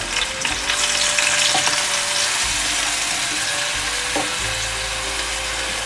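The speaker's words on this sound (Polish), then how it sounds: "dosłownie parę minut podsmażam te jabłka. Na maśle." Apples sizzle and fry in butter in a pan, a continuous crackling hiss with occasional light clicks of stirring.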